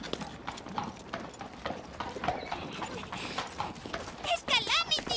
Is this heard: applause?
no